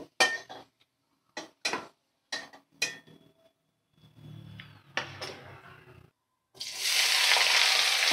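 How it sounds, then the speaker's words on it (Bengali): Cut potatoes frying in a pan, a steady hiss of oil building loudly near the end, after a run of sharp clinks and scrapes of a utensil against cookware. "আমি আলুগুলো ভাজা করে নিচ্ছি"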